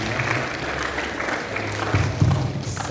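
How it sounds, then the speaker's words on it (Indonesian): An audience at a Friday study session applauds steadily for a few seconds, a soft wash of clapping with a murmur of voices underneath. "bagus, tepuk tangan."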